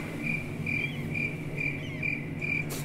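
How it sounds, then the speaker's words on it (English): Insects in the video game Amnesia: Enigma buzz in a steady outdoor drone, short pulsing trills repeating about twice a second over a low background hum, with no voices. "Can you stop that, cicadas?"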